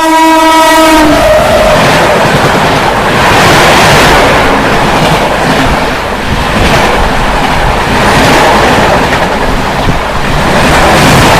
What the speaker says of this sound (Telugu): సో మన వెనకాల చూసుకుంటే Danapur Secunderabad super fast express train అయితే వస్తుంది.